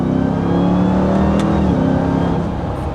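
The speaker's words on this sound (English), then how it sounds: "I love that little like supercharged whine that you get too" A 2021 Ram 1500 TRX pickup with a 702-horsepower supercharged engine accelerating, giving a loud, steady engine roar with a rising supercharger whine, heard from inside the truck and without talk.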